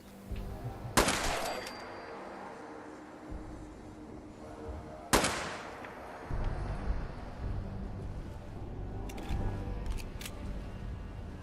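Two sharp, loud shots from a handmade pistol in the video game Fallout 4, spaced several seconds apart, followed by lingering game ambience and faint clicks.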